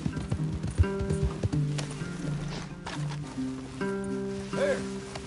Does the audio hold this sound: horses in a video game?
yes